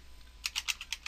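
Several crisp keystrokes on a computer keyboard as a sudo copy command is typed into a Linux terminal, about six quick taps in an uneven rhythm, close and clear with no voices.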